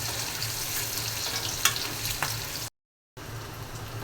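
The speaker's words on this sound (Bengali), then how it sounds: "ডিম আর পেঁয়াজটা আমি একসাথে ভেজে নিচ্ছি।" Egg and onion fry together in a pan with a steady, close sizzle and crackle and an occasional stir, broken by a brief moment of silence before the sizzling resumes.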